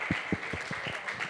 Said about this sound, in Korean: 우리 하나님께 영광의 박수 돌려서